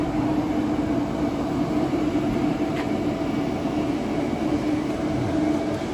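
A KTX-Eum high-speed train at Bubal station, heard as a steady loud rumble with a sustained low hum and faint rail noise that runs evenly throughout, with no talking.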